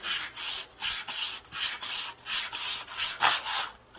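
Sanding a powder-coated Kraus inverted fork tree stop for a Harley Twin Cam Dyna motorcycle: about eleven close, even back-and-forth rasping strokes in quick rhythm, each a bright scratchy burst with short pauses between, no talking.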